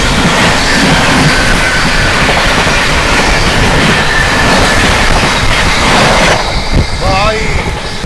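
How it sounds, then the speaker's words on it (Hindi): The New Delhi–Dibrugarh Rajdhani Express roars past at close range, a loud steady rush of wheels and clattering coaches with rhythmic clickety-clack that fades near the end. "सामने से आती हुई 124 न्यू दिल्ली डिब्रूगढ़ राजधानी आती हुई"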